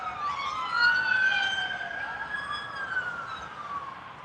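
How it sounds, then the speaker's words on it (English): Emergency vehicle sirens wail outdoors, several overlapping rising and falling tones sweeping steadily throughout, moderately loud with a distant, spread-out quality and no talking. "I hear the sirens."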